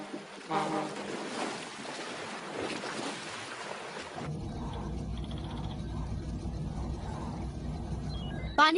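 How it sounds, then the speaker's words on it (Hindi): In a Hindi Super Robot Monkey King cartoon, water surges rapidly upward as a city sinks after an earthquake, a continuous rushing, wave-like roar that grows denser midway and fills the whole stretch. "पानी तेजी से ऊपर आ रहा है।"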